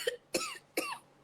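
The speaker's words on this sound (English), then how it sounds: "Double paroxysmal cough." Three sharp, harsh paroxysmal coughs come in quick succession, each with a brief wheezy tail, close and fairly loud.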